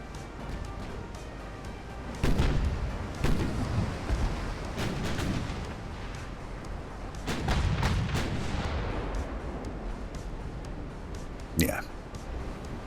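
A battleship line firing a naval artillery broadside in the game Ultimate Admiral: Dreadnoughts, with deep booming salvos rolling over a constant low rumble and a sharp crack near the end, under faint background talk.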